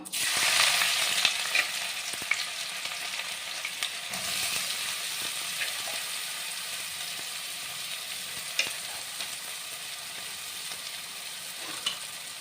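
Onions dropped into hot oil for a Chettinad fish curry, a bright burst of crackling sizzle that settles into a steady fry with occasional stirring knocks, close and clear, no speech.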